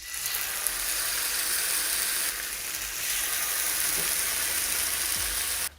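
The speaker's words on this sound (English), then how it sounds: "Whilst the tofu is grilling behind me" Tofu grilling in a griddle pan gives a steady, dense sizzle that holds loud and even throughout, dipping briefly midway and cutting off at the end, with no talking.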